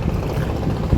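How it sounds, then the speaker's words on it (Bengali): Strong wind gusts over the Buriganga river, a steady roaring rush buffeting the microphone with a deep low rumble, loud and continuous for a brief moment, without any voices. "প্রচুর পরিমাণ বাতাস বইছে"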